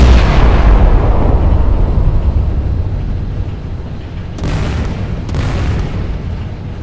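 The Scharnhorst battleship's guns fire in the Battleship Command video game: a loud, deep boom rolls out and fades, followed by two sharp, softer blasts a second apart.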